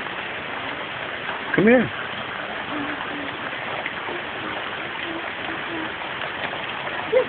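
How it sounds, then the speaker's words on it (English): Outdoor rainfall makes a steady, even hiss for several seconds, broken by a short spoken call. "Playing outside in the rain."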